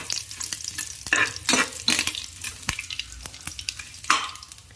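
Curry leaves hitting hot oil in a pan while cooking Mangalore-style country chicken sukka, giving bursts of crackling sizzle with intermittent sharp spatters and stirring scrapes, close and without talk.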